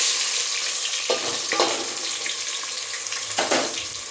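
Onion goes into hot oil for chicken sukka and fries with a loud, continuous crackling sizzle, broken by a few scraping stirs of a spoon.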